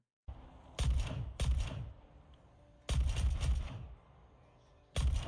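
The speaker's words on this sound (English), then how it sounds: "If you actually listen to the sound of the weapon and everything, it sounds better." Weapon fire in a video game: four loud, broadband shots or bursts spaced unevenly over a few seconds, each with a short decaying tail, over a low rumbling ambient bed with no talk.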